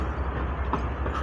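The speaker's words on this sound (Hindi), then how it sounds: "ये 28 डाउन शालीमार एक्सप्रेस का रेक शंट हो रहा है यहाँ पर।" Passenger train rake of the 28 Down Shalimar Express being shunted at Multan station, a steady low rumble of rolling coaches with faint clanks, heard alone without talk.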